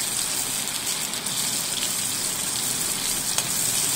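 Finely chopped onion, added with green chillies, hits a hot pan and sizzles in a steady, close, even hiss that carries on without a break and without talk.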